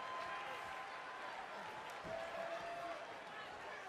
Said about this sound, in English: We've got an animated crowd here tonight